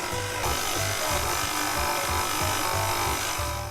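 A stand mixer with a dough hook kneads pizza dough, a steady motor hum with a regular thumping pulse as the dough slaps around the bowl, close and continuous.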